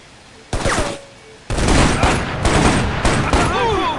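Bursts of rapid gunfire in the military shooter game Shadow Ops: Red Mercury, loud and close, with a short volley followed by sustained overlapping shots and faint game voices beneath.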